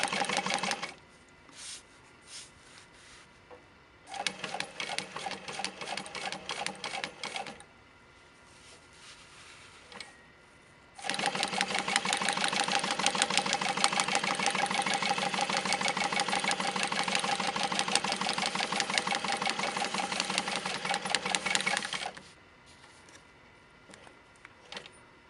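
A Juki DU-1181N industrial walking foot sewing machine stitches in several runs, a fast rhythmic mechanical chatter, short bursts at first and then a long steady stretch of sewing, with quiet pauses between.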